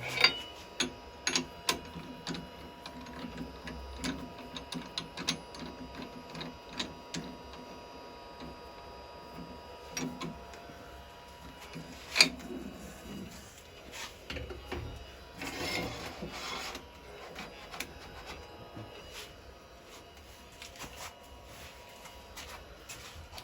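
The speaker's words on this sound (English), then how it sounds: "now I've got a little peg to turn like that." A small wooden peg spins on a lathe as carbide chisels cut it, giving a steady, moderately quiet whir with irregular scraping ticks and taps throughout.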